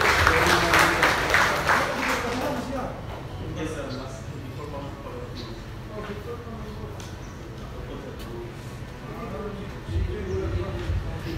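Applause from an audience at a fire service gathering, brisk clapping loud at first then fading out within a few seconds, followed by a voice speaking.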